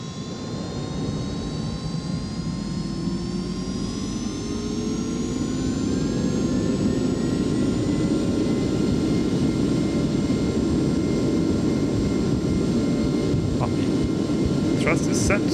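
Twin jet engines of a Cessna CitationJet 525 in a flight simulator spool up to takeoff thrust, a loud, continuous roar with a rising whine that holds steady, ending with a few clicks.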